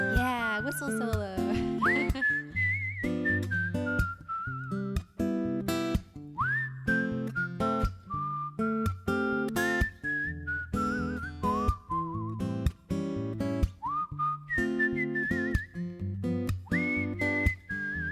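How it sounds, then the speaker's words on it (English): Whistling solo in a live-streamed band performance of a jazz standard, a clear, close melodic line with sliding pitches over soft guitar chords, played through with no singing. "Yeah, whistle solo."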